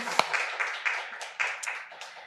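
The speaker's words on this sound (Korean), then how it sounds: "우리 목사님께 정말 격려의 박수를" A church congregation gathered for a Wednesday worship service gives a brief burst of clapping for their pastor, light and scattered, with a few sharper individual claps standing out.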